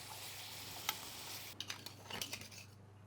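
Mushrooms and seaweed cooking in butter in a pan, a soft steady sizzle with a few faint scraping stirs toward the end, close and quiet.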